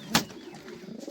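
A small, slender Suru pigeon gives soft, low coos close by, with one brief sharp flutter near the start.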